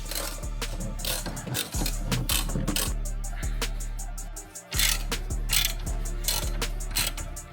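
A hand ratchet loosens bolts on a VW Passat, with rapid clicking pawl strokes in repeated bursts and brief pauses between pulls, close and clear.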